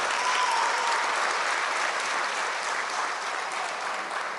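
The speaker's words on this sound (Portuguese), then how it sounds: "Uma salva de palmas à ALIS." A crowd claps in sustained, even applause, loud and dense from start to finish with no talking over it.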